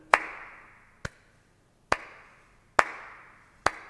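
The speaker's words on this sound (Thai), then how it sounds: "เมื่อเราปรบมือนะครับแบบนี้จะทำให้เกิดเสียง" Five single hand claps, sharp and close, spaced roughly a second apart in a slow steady rhythm with silence between them.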